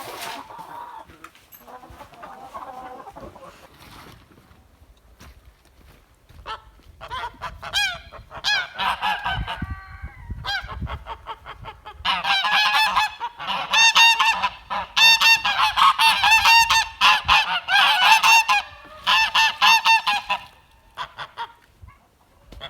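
Geese on a homestead honk repeatedly at close range, starting sparse and building into a loud, rapid chorus of overlapping honks before tapering off.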